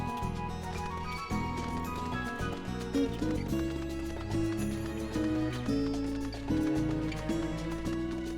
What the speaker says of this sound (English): so majestic, this horse.